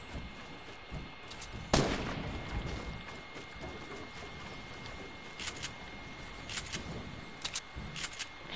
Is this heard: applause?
no